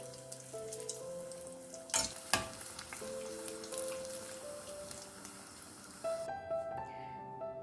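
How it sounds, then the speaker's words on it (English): Tomato katori cutlets coated in breadcrumbs deep-fry in hot oil with a steady crackling sizzle, broken by a couple of sharp clatters partway through and a quieter spell near the end. "Deep fry them till golden brown."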